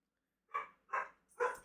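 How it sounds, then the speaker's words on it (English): A dog barks three times at an even pace, each bark short and fairly close, with quiet gaps between and no talking over them. "Oh, dog."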